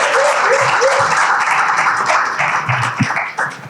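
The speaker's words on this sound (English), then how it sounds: "Prudence, Kolong, welcome on stage with a warm applause" A crowd at an Afro Berlin event gives warm applause as speakers take the stage, with steady, loud clapping throughout and a few sharper taps standing out near the end.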